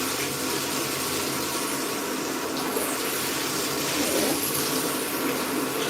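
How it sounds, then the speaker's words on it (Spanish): Tap water runs steadily to rinse out a shampoo tube during a poodle grooming session, a constant close splashing hiss with no break. "He puesto un poco de agua para limpiar ahora mismo lo que sería este tubo"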